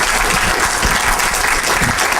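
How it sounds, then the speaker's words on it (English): Audience applause for David at the NWPAS 2009 event: dense, loud clapping from a crowd that fills the whole moment without a break. "So I like to just give a round of applause for David."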